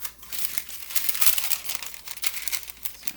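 Close, crisp crinkling and rustling of paper, handled in bursts with brief pauses, no voices.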